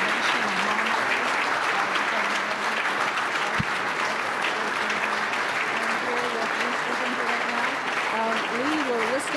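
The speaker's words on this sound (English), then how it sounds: "You can hear behind us the thunderous applause for those remarks and the standing ovation and lawmakers." Thunderous applause from lawmakers giving Governor Rhoden a standing ovation after a special address fills the room in a dense, steady roar of clapping for the whole stretch, with a voice heard faintly over it.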